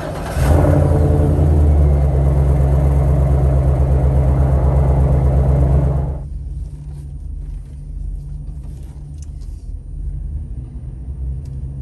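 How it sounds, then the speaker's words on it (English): A GMC Sierra 2500HD pickup engine runs loud with a deep rumble just after a cold start, then drops to a quieter, steady idle about halfway through. "What a cold start."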